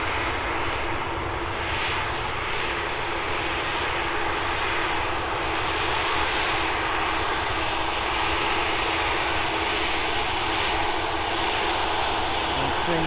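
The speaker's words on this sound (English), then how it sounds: "737 off to Derry." Ryanair Boeing 737 jet taking off, a broad sustained roar of engines at full thrust that holds steady and fairly loud across the whole stretch, heard from outside with no speech over it.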